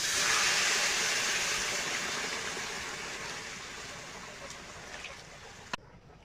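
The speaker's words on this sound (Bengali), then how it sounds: "এবার দিয়ে দেবো গরম জল," Hot water poured into a frying pan of pointed gourd and prawns bursts into a loud, broad hiss and steamy sizzle that slowly fades over several seconds, ending with a faint knock.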